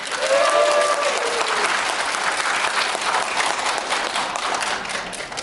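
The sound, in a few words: audience applause at a union election speech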